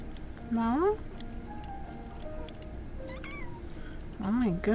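A cat meows during a Pokémon game stream: two clear rising-and-falling meows, one near the start and a louder pair near the end, over a steady background of game sound.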